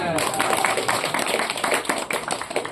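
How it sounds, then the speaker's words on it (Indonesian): An audience at a Vyasa Puja celebration claps in a dense, lively burst of hand claps with sharp individual slaps, continuing throughout. "Tepuk tangan."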